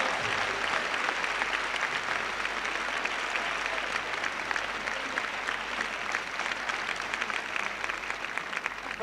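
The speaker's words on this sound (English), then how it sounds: "please give a round of applause to the four of them and to me" A large audience applauds steadily for several seconds at a church gathering, a dense, even wash of many hands clapping at moderate loudness with no voices over it.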